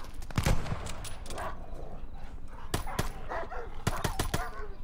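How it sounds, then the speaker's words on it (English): Dogs bark in the Call of Duty Vanguard campaign, a run of sharp barks scattered over a few seconds amid bursts of gunfire and busy battle noise. "I hear them dogs"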